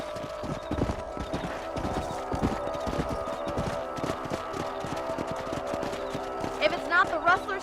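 Rhythmic hoof clip-clop of a horse at a steady walk in Red Dead Redemption, with a brief whinny near the end and ambient game music underneath.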